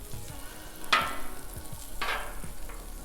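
Sausage frying in butter on a Blackstone griddle, a soft close sizzle with a few sharper crackling bursts and light scraping stirs, no talking.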